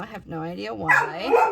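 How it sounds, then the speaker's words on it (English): A dog indoors barks and whines in short, pitched bursts, close and fairly loud, mixed with someone talking over it. "she just barks at me more."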